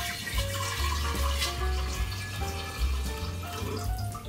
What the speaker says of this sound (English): we're going to pour it into the vase